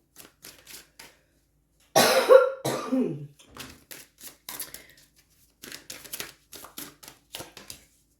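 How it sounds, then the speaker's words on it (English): A person with an itchy throat lets out a short burst of coughing and throat clearing, close and loud against a quiet room, between soft tapping and shuffling of cards. "I'm trying so hard not to cough,"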